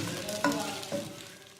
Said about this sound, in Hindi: चिकन निकालकर हम इसी ऑयल में प्याज को फ्राई कर लेंगे